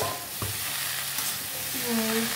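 Chopped homegrown bottle gourd for a prawn curry, cooked with little oil and spice, drops into a hot pan and fries with a close, steady sizzle, broken by a brief clatter and the scrape of a stirring spoon.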